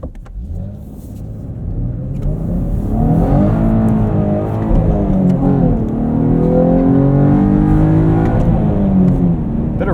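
A 2023 Chevrolet Camaro 1LT with a 3.6L V6 and manual gearbox accelerates hard from inside the car, its engine note rising loud and rumbling through the revs and holding a sustained whirring drone, with no voices.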